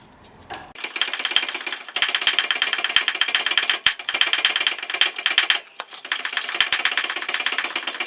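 A socket wrench ratchets on a control arm bolt of a Nissan X-Trail, rapid loud clicking pawl in long bursts with brief pauses between strokes, close and alone.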